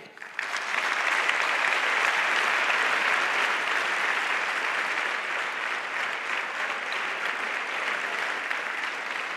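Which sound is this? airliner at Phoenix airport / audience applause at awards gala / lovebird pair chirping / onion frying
audience applause at awards gala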